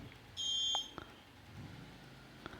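A prayer time clock that syncs with internet time gives a single steady electronic beep lasting about half a second, moderately loud against a quiet room with faint clicks afterward.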